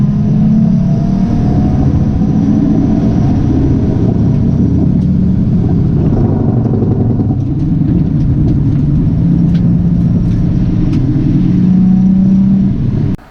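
A Nissan 350Z on a race track carries a failing wheel hub, heard as a loud, constant rumbling drone with engine and road roar. A faint whine rises and falls within it, and it sounds recorded from inside the car, with no talking.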